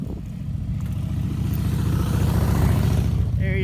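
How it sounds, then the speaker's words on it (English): A motorcycle approaches on a street, its engine drone building steadily louder over a few seconds as it nears, a rough low rumble growing close. "here comes a gangster motorcycle"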